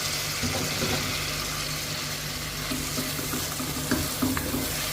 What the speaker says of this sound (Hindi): टमाटर को भी अच्छे से भूनना है हमें